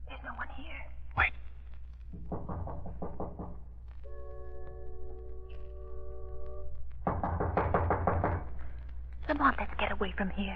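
In an old radio drama, a single sharp knock lands on a door between hushed, whispered voices, followed by a sustained tonal passage and more quiet talk.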